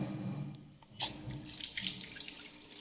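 Tap water runs into a sink while homemade paper soap is being tried out. The stream starts softly, then swells into a steady, close, hissing gush after about a second, with no voices.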